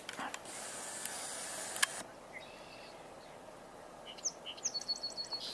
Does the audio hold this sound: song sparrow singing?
yes